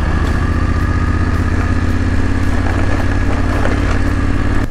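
A BMW F750 GS motorcycle ridden in Enduro mode through Colombia's coffee region, its engine droning steadily and loudly at a constant pitch with a buzzy rhythmic throb and no speech.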